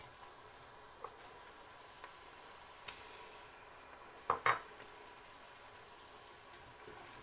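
Garlic ginger paste fries with lightly browned onions in a pan, giving a soft, steady sizzle with a few faint utensil taps and one brief louder clatter partway through, with no voices.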